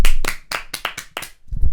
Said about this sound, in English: Who are we giving the round of applause, actually?